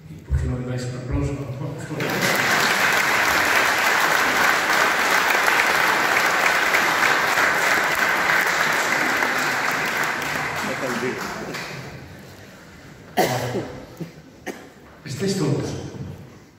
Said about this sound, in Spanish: ¿Y por qué no le dais un aplauso?